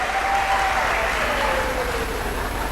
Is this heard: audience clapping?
yes